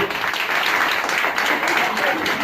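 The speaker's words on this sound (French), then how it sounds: "Vous pouvez l'applaudir." A campground audience at an evening show claps for a performer, a thick and fairly loud wash of applause that runs through the whole moment.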